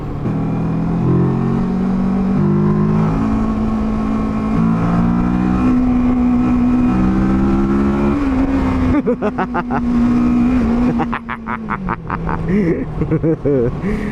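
A motorcycle on a North Yorkshire road tour revs up and down while popping small wheelies, the engine loud and close with rising and falling pitch, wind buffeting and a few voice sounds mixed in.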